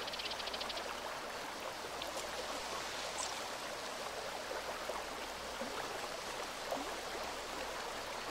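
Flowing water in A Plague Tale Requiem, a steady nearby rush and babble like a stream, constant throughout with faint drips and small splashes, no talk.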